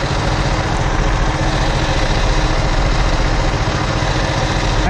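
A tractor engine runs loud and steady at high RPM while cutting hay, a continuous heavy rumble with a rough vibrating texture and no pauses.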